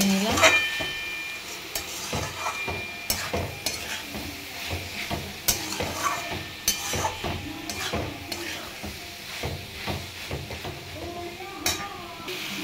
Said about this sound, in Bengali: হলুদ দিয়ে ভালো করে নেড়ে নিলাম